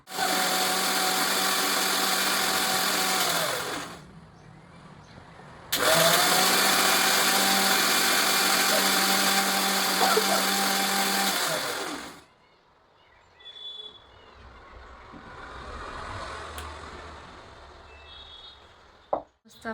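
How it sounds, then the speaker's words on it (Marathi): A kitchen mixer grinder runs in two loud steady bursts, grinding green chilies and coriander, with a short pause between; the motor whine cuts off, leaving quieter kitchen clatter and faint background sounds. "सो हे आपल्याला मिक्सरमध्ये बारीक करायचं आहे."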